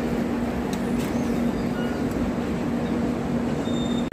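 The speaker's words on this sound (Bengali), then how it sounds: "ট্রেন এখন এসে পৌঁছেছে দুর্গাপুরে।" A train pulls into Durgapur station with a steady, loud rumble and a low hum, unbroken for several seconds, with a few faint higher squeals on top.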